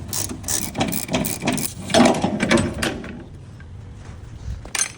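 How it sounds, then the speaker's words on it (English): A hand ratchet clicks in quick bursts, loosening the fuel tank strap nuts under a Ford Econoline van during a fuel pump replacement; several close, rapid runs of pawl clicks, then a pause and a final short burst. "And then we just gotta loosen these nuts."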